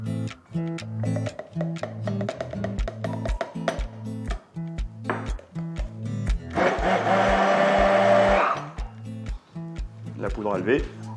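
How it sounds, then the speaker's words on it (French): Kitchen blender whirring as it mixes fritter batter of flour and baking powder, a loud steady motor burst of about two seconds amid clinks of dishes and utensils, with a voice speaking before and after. "La raison pour laquelle je la fais avec un mixeur ou un blender, c'est de ne pas trop travailler la farine"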